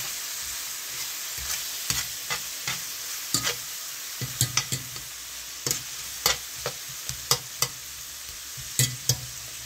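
Hamburger and onions sizzle steadily in a cast iron pan, a constant frying hiss broken by frequent sharp scrapes and taps of a utensil stirring the food up close.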